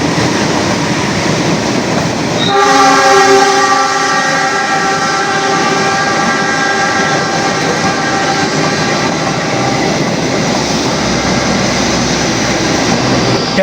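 A diesel locomotive hauling the Sangkuriang train sounds a long, loud horn and then roars steadily past at close range through Kalisetail station in Indonesia, its rumble filling the whole stretch.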